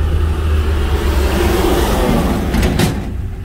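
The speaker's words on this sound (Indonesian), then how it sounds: "Kita disalip truk guys" A truck overtakes on a rural road between Huta Silaban and Huta Hutasoit in Siborong-borong, North Sumatra. Its loud, steady roar swells close by and then sweeps past, with no talk over it.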